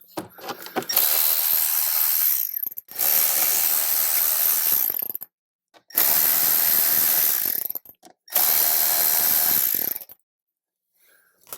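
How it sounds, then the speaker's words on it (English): A 7mm ratchet or driver removes Phillips screws from the dash of a 2018-up Jeep Wrangler JL, heard as four separate loud whirring bursts of a few seconds each, divided by short silences. "I'm going to use my 7mm just for size constraints here to remove these screws."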